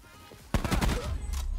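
Swat RFT assault rifle from Black Ops 4 firing a fast burst of sharp, loud gunshots that begins suddenly after a quiet moment and keeps going as rapid, dense shots.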